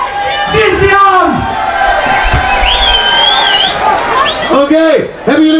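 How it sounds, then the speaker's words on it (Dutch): Live audience at a local radio show event in Druten applauding, cheering and whooping loudly throughout, with shouts rising over the crowd noise near and sustained. "mega waanzinnig applaus"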